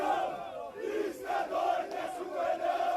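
Football supporters celebrate in the middle of a street after a Copa do Brasil match, a dense crowd chanting in rhythmic, rising and falling waves of voices, loud and continuous.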